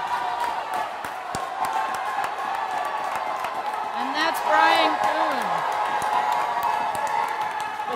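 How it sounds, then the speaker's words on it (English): A swimming-meet crowd at an aquatics event cheers and claps steadily in a large echoing hall, with a brief swell of whoops midway while a commentator talks over the noise. "You can hear the crowd is really pumped."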